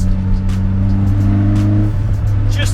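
A Toyota Starlet fitted with a Corolla 4AGE engine sits close and loud at a steady, throaty idle, then gives a quick sharp rev that rises and fades away.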